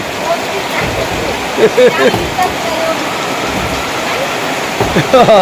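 Steady rain falls throughout on a rainy day, a dense hiss with scattered heavier drops, while a voice talks over it at times.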